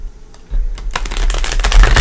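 A deck of tarot cards is shuffled up close, faint taps at first, then a dense riffling flutter of cards that grows louder over two seconds, with no talking.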